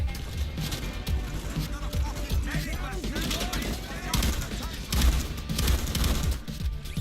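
Shotgun blasts and other gunfire boom through a Payday 2 safe house raid mission, dense overlapping shots and crashes with game noise throughout, a voice talking faintly underneath.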